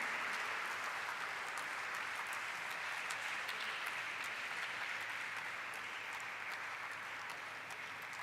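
Steady applause from an audience at a stock-exchange listing ceremony for Eureka Forbes Limited, dense clapping sustained evenly throughout, loud and continuous with no pauses.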